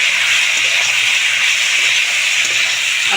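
Fried potatoes dropped into hot spiced oil for a Bengali katla fish curry, giving a steady, loud hissing sizzle that holds evenly throughout with no voices.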